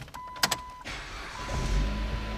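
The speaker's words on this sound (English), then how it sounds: "Car fires right up." A Chrysler Sebring's engine cranks and fires up after a brief whirring sound at the start, then settles into a steady low idle rumble, with no talking.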